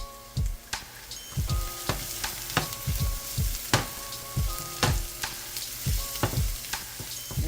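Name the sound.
garlic frying in a vegetable stir fry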